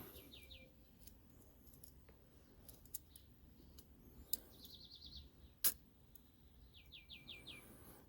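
Metal pot-support legs of a Fire Maple Greenpeak camping stove being unfolded, faint sharp clicks and snaps against a quiet background, with birds chirping in the distance.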